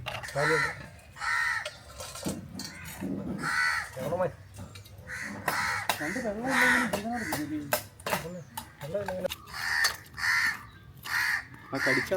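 Crows caw repeatedly in short harsh bursts, some overlapping, while people talk intermittently nearby during cooking of a backwater crab roast in Kollam.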